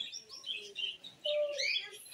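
An African grey parrot calls in a shop, giving a quiet run of high chirps and short whistles, with one clear whistled note in the middle.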